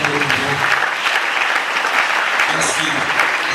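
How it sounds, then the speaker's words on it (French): A church congregation claps together in a dense, steady round of applause, loud and sustained from start to finish, with a few voices faintly mixed into the crowd. "Acclamons pour le Seigneur."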